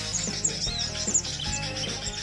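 A bird call ringtone plays from a phone through an external speaker, giving rapid high chirps and tweets over a low humming, slightly distorted backdrop, close and fairly loud.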